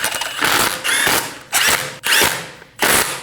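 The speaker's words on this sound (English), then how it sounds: "Snug down the lug studs. Using a 17mm socket," Ratchet wrench with a 17mm socket snugging the lug studs on a Volkswagen Passat wheel, heard as four or five short bursts of rapid clicking separated by brief pauses, close and loud with no talk.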